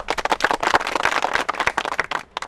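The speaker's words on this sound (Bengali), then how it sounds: "ভাই সকল একটা হাততালি দেন" An audience at a street performance claps in a quick, uneven burst of sharp hand claps that thin out near the end.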